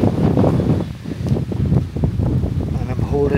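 Strong wind gusts buffet the microphone outside a temple pagoda on Phu Quy island, Vietnam, as a steady low roar with rustling texture that runs through the whole stretch.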